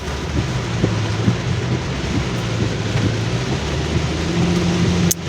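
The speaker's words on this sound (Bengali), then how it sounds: "বৃষ্টি হচ্ছে।" Rain falls steadily on a Dhaka flyover, a dense continuous wash of sound mixed with low rumbling traffic and a few brief knocks. It stays loud throughout.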